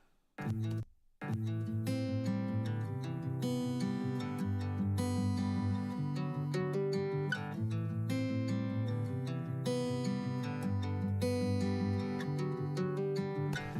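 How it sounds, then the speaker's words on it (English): A repeating acoustic guitar loop for a country beat, with steady strummed and picked chords that play on without a break, close and clear, with no voices. "was this acoustic guitar"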